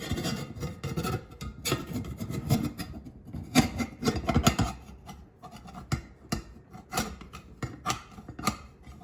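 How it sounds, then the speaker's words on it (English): Hard spatula scraping baked cornbread loose from the bottom of a pan, a series of irregular rough scrapes and rubbing strokes with small knocks, close and moderately loud. "Then I like to get in there to get the bottom with this hard spatula."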